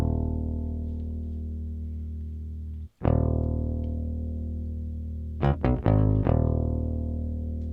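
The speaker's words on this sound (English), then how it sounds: "the bass sounds something like this" A grimy, distorted bass line for a 90s-style hip hop beat, played on a Maschine MK3, sustained and droning with a brief dropout near the three-second mark and a burst of clipped, stuttering notes toward the end.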